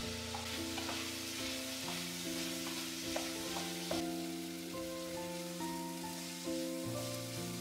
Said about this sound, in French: J'y verse de l'huile, puis j'ajoute mon oignon pour le faire revenir dans le tout.